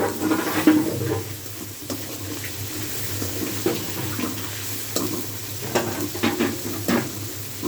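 Onions sizzle steadily in a hot pan, with occasional scraping stirs and clinks; no one speaks.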